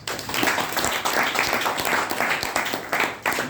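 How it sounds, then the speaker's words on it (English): Audience applause for an evaluator at a Toastmasters meeting, a lively mix of many hands clapping close by, steady and fairly loud with small surges throughout. "I think the evaluator deserves even more louder applause."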